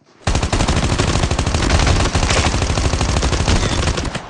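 Rapid automatic gunfire in the mobile shooter Call of Duty Mobile fires in dense bursts, loud and close. The rattle runs nearly continuously for about four seconds, with only a brief dip midway.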